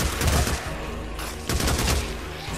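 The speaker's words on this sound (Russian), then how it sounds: "А я ж стреляю." Gunfire in the action video game Days Gone comes as a quick burst of several loud, booming shots in close succession, with a second cluster following about a second later, all within under three seconds.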